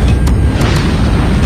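Explosions from an airstrike in Call of Duty Mobile create a loud, dense, rumbling boom that lasts throughout, with a few sharper bursts layered over the heavy low roar.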